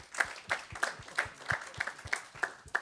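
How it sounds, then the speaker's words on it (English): About nine distinct, evenly spaced claps sound fairly quiet and close, a small sparse applause at the close of an inland navigation event, with no talk over them. "let's have a hand of applause for all the work they did and the event they got together"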